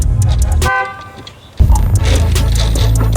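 A car horn sounds once in a brief toot amid loud, rumbling background noise, followed by more busy clatter.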